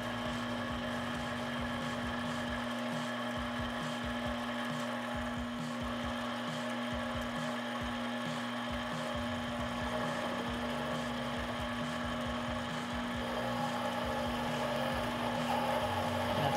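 A mini lathe spins at a higher speed while machining a workpiece in a home shop, giving a steady motor whine with a constant hum and faint rhythmic chatter, loud and unbroken with no talking.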